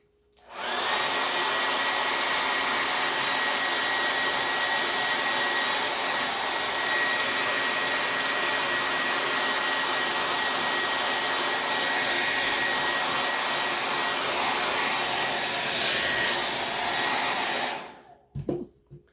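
A hair dryer blows steadily on a freshly painted Dollar Tree tray, a loud, close, continuous whooshing drone with a faint whine that runs for about seventeen seconds before clicking off.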